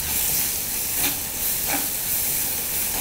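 Onions fry in a pan for a Sri Lankan tempering with dried sprats, making a steady, hissing sizzle throughout with a couple of brief stirring swells.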